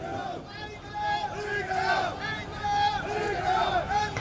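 A violent mob shouts slogans in steady rhythmic chants as it advances, a dense crowd of voices roaring together at moderate distance throughout.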